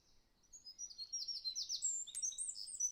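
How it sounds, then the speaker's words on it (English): Ambient bird song in a forest setting from the video game Infinity: Battlescape: several high, clear chirps and whistled trills that rise in number and overlap, fairly soft against near silence, with no talk. "Just playing some ambient bird song and forest noise."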